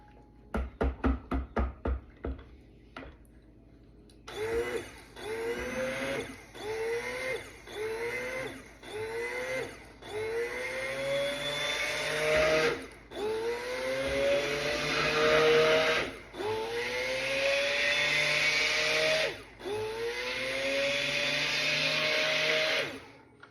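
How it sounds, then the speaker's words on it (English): Stick blender mixing sea salt soap batter, running in a series of short whirring bursts of rising pitch after a few quick clicks, then longer pulses, close and fairly quiet, with no talking. "Get some air bubbles out of our blender"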